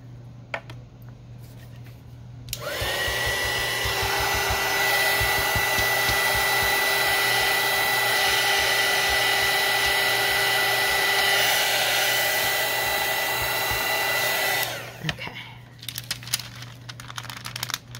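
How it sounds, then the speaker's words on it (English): A heat gun blasts steadily for about twelve seconds, drying paint on Scotch tape; a loud, continuous whirring blow with a steady tone, starting and stopping abruptly against quieter crinkling handling noise. "It dries super quick with that heat gun."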